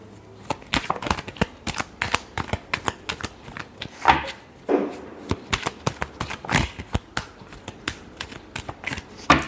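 Tarot cards being shuffled by hand, a rapid run of crisp riffling snaps and soft flutters repeating close up across the whole stretch, with no voice over it.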